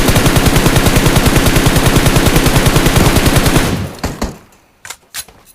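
Rapid automatic gunfire in the mobile battle-royale shooter PUBG Mobile, a loud, dense stream of shots for several seconds that stops abruptly, followed by a few scattered single bursts and brief quiet.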